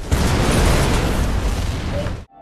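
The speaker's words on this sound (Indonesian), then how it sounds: "Namun tak lama setelah itu terjadi sebuah ledakan." A loud explosion in a film scene roars as a dense, sustained blast of rumbling noise for about two seconds, then cuts off abruptly into near silence.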